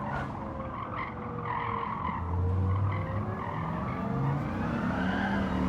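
Dodge Viper SRT10 Coupe in a racing video game, rear tyres squealing in a sustained skid over a droning engine, loud and continuous for several seconds.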